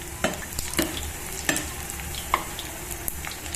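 Ajwain leaf pakodas frying in very hot oil, a soft steady sizzle with occasional sharp clinks and scrapes from stirring, fairly quiet and close, no voices.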